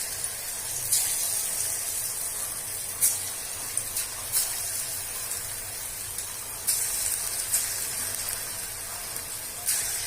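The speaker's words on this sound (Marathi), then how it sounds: "तेल गरम झालेलं आहे, आता आपण हातानेच भजी सोडून घेऊ।" Small balls of moong dal fritter batter are dropped by hand into hot oil and fry with a steady, dense hiss and sizzle, broken by occasional sharper pops and crackles.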